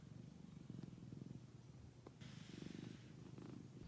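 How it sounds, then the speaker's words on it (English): Soft, close rhythmic purring of a cat, a low rumbling pulse that rises and falls with each breath, fairly faint but continuous. "If you can somehow hear cat purring, I'm really sorry."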